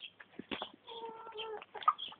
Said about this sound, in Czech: Sněženka, slepičky